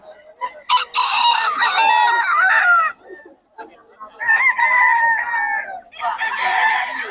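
At a chicken market in Bocaue, chickens cluck and a rooster crows loudly and close by in several long calls, with brief quieter gaps between them.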